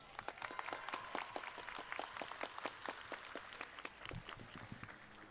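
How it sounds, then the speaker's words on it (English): An audience at a high school commencement ceremony claps in steady, fairly faint applause from many hands, with no clear shouting. "let's give them another round of applause"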